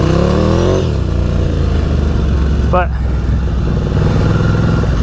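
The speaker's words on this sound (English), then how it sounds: "Sucks being on an air-cooled motorcycle on the highway." A Ducati Scrambler Urban Enduro with an air-cooled engine being ridden on a highway, its loud, steady low engine drone and wind rush continuing throughout, with someone talking briefly at the start.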